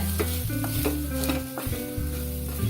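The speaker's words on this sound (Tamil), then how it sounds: "எண்ணெய் விட்டுட்டு இதை நல்லா வறுத்துடலாம்" Ingredients fry in oil in a pan while a spatula stirs them, cooking for a rice dish. A continuous close sizzle runs throughout, broken by repeated scraping and stirring strokes, with a faint tonal hum in the background.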